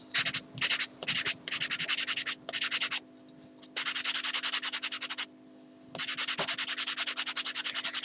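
Sandpaper distressing a chalk-painted antique glass bottle, rapid back-and-forth rasping strokes in several bursts separated by short pauses, close and fairly loud against a steady background hum.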